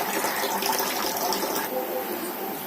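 Water pours steadily from a household water filter, a continuous trickling gush that fades slightly toward the end.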